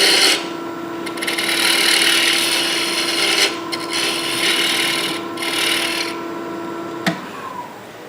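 A turning tool scrapes and hollows out the inside of a wooden ring on a lathe, a loud, continuous rasping hiss that swells and eases in passes and stops abruptly near the end.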